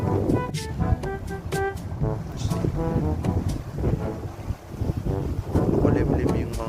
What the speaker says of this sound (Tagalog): Bukas ng hangin dito.